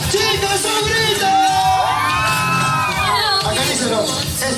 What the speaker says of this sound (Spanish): ¡Chicas, un grito!